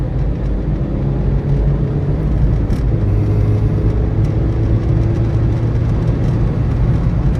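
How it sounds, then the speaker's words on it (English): A 1999 Daewoo Lanos engine pulls at full throttle after downshifts into third, a steady loud drone with a rising tone that holds throughout, with no talking. "I can just drop a gear into fourth, another one into third, and let's just go full throttle."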